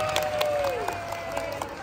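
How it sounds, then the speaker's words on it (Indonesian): An audience claps at a barongsai and liong lion-dance show performed in water, a short burst of scattered applause with crowd murmur and a steady tone running beneath. "Tepuk tangan untuk Anda semua."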